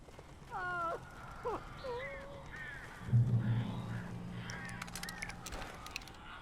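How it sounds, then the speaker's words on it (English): Crows caw in the video game Alan Wake, giving several short, harsh calls against a low rumbling game ambience, with a louder low thud midway. "These birds are weird."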